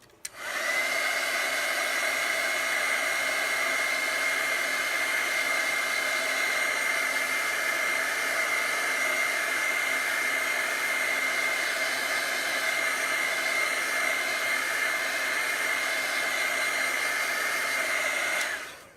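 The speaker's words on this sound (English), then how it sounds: "I'm going to be drying this with a heat gun as we go." A heat gun drying chalk paste runs in a steady, loud, close whoosh of hot blowing air for the whole stretch, starting and stopping abruptly.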